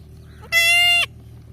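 A newborn baby goat kid bleats once for milk, a loud, close, quavering cry lasting about half a second against a quiet background hum.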